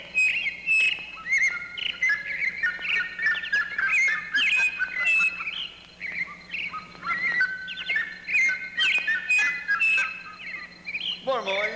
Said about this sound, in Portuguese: Deixa os passarinhos agora.